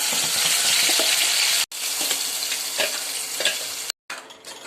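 Ground masala paste hits a hot pan with curry leaves and bay leaf and fries with a dense, loud sizzle, broken by brief cuts, with scattered stirring clinks and scrapes close by.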